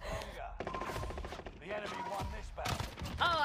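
Rapid bursts of Call of Duty gunfire rattle through most of the moment, dense and close, with a voice talking over them and a brief lull near the middle.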